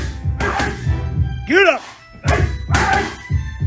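A boxer hitting pads, delivering a rapid series of loud, close thwacking punches in bursts, with a trainer shouting encouragement between combinations.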